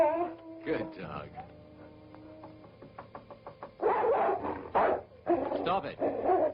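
A dog in a 1962 horror film scene whines and yelps, then breaks into a run of close, loud barks. Voices speak around the barking.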